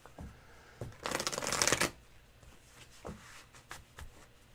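A deck of tarot cards being shuffled in a quick riffle, a dense papery burst lasting under a second, with a few soft taps and handling noises around it.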